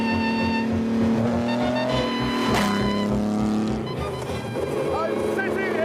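Maserati 250F Grand Prix race car engine running at about 3,000 RPM, a loud close rasping drone with pitch shifts, someone talking over it throughout.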